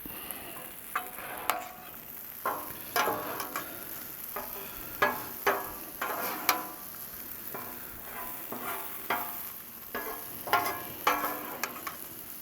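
Shrimp and sausage sizzle on a Blackstone flat-top griddle while a metal spatula stirs and scrapes them, making repeated clacks and scrapes over a steady hiss, close and fairly loud.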